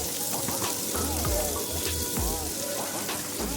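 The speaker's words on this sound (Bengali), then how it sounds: "পেঁয়াজটা একটুখানি লাল লাল করে ভেজে নেব।" Chopped onion frying in oil in a pan with cumin and whole garam masala for a Bengali chicken kosha, a steady close sizzle with scattered pops and a few scraping stirs, no talking.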